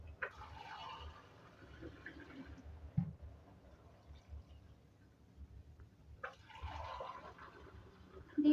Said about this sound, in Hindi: अब इसमें पानी ऐड करेंगे।